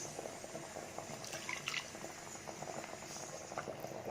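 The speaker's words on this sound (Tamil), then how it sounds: "2 நிமிஷம் இந்த குழம்பு நல்லா கொதிக்கட்டும்" Jilebi fish curry gravy bubbling in a pot on the stove, a steady close simmer of soft popping and watery bubbling throughout, with no voices.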